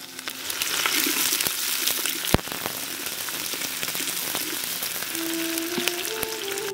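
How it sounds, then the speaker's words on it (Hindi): Curry leaves, green chillies and small onions fry in hot oil in a pan for a vegetarian fish curry, giving a steady, close crackling sizzle with scattered pops throughout. "अब करी पत्ते डाल देंगे अब हरी मिर्च डाल देंगे अब छोटा प्याज डाल देंगे"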